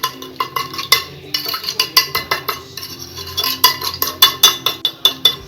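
A spoon stirs a sugar, cinnamon and milk mixture in a dish, making rapid, repeated clinking scrapes against the dish in a steady rhythm, close and fairly loud, with no talking.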